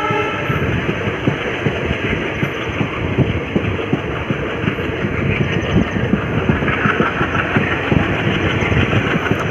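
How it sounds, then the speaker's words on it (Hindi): A WDM 3D diesel locomotive hauls a train with loud, continuous engine drone and dense rolling rail clatter, close and steady throughout, with no voices. "just have a look at the sound of our locomotive WDM 3D"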